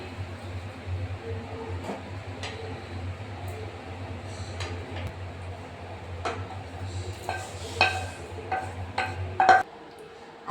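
Salted mango pieces being mixed with cooled pickle masala, giving soft scattered clinks and scrapes of spoon against a bowl over a steady low hum, growing busier toward the end.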